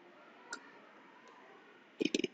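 A computer mouse clicks while a photo editor's eraser tool is selected: one faint click early on, then a quick cluster of four or five sharp clicks near the end, close up against a low background hiss.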